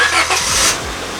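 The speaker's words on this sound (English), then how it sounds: "It starts up and runs and drives." A crusty old project car's engine is heard briefly and loudly, with a short burst of engine noise and rough, revving sounds up close.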